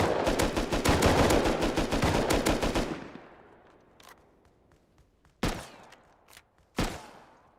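Rapid automatic gunfire in the video game Rust, a dense burst of shots for about three seconds, then silence broken by two single sharp shots, loud and close.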